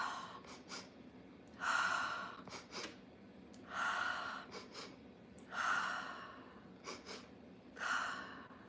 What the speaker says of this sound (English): take 2 quick inhales through the nose and 1 long exhale through the mouth